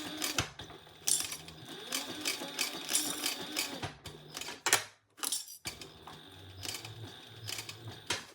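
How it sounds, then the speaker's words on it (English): A sewing machine stitches faux croc fabric in loud rapid bursts of mechanical clatter, stopping and restarting several times with brief pauses, close up and without speech. "This faux croc is sewing beautifully."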